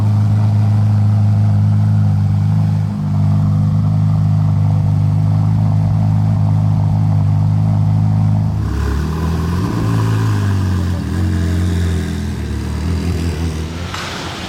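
A Bentley engine rumbles steadily through a cold start-up on a Monaco street, loud and close, its low drone shifting and swelling partway through as the revs change.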